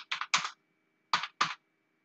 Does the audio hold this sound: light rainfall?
no